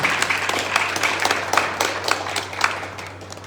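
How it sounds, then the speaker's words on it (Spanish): A church congregation applauding during a Spanish-language morning service, a continuous wash of clapping hands with some sharper individual claps, over a steady low hum. "Dale fuerte el aplauso al Señor en esta mañana"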